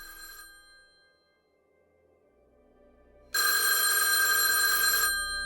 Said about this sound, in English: that very same day, Charlie Chaplin got a phone call from the U.S. Marshal.